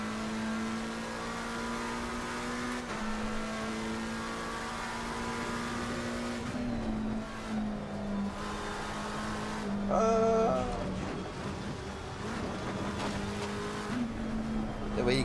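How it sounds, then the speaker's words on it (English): Race car engine in Assetto Corsa Competizione revving and accelerating on throttle, pitch climbing through gear shifts, with brief tire squeal and a burst of louder activity midway; a voice talks underneath at times. "We get to get on the throttle."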